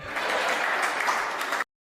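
Brief burst of audience applause at a Hindi comedy poetry gathering, a kavi sammelan, dense clapping that holds steady, then cuts off abruptly.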